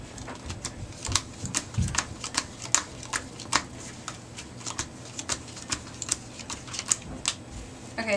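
Playing cards are dealt one after another into piles, crisp sharp snaps and flicks in an uneven but quick rhythm, close to the mic, with faint handling noise between.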